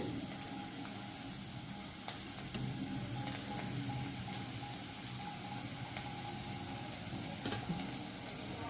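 Potatoes fry in oil in a pan with a steady, even sizzle and faint crackle that carries on throughout with no talking.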